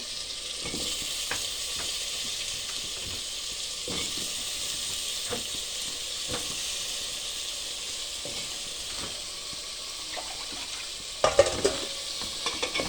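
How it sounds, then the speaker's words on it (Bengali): Fried fish is stirred gently in a pan: a soft continuous sizzle with a string of light spatula taps and scrapes at irregular intervals, then a few louder knocks near the end, close by. "অল্প নাড়িয়ে দিচ্ছি।"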